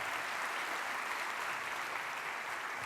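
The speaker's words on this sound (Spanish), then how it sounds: "Aplauda con alegría." A church congregation claps together in steady, dense applause for a few seconds, fairly quiet and even throughout, with no speech on top.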